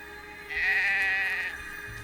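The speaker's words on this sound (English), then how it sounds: "Sheep continually chews on a blade of grass." A single sheep in the game Drova gives one clear, wavering bleat lasting about a second, fairly close and alone against quiet ambience.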